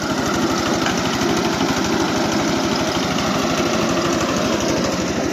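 A Forte 10 motor cultivator converted with a one-metre milling cutter runs at low revs, giving a loud, steady, close engine drone with a fast even putter and no talking.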